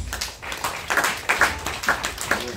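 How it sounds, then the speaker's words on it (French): A church congregation claps during a sermon, a handful of loose, uneven hand claps in short clustered bursts, moderately close, with no talking over them. "Applaudissez le Seigneur Jésus."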